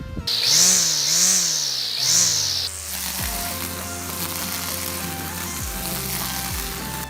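An EGO cordless string trimmer revs with a high whine, then settles into a steady buzzing drone while cutting real grass, bogging down in pitch a few times under load, near and loud with no talking.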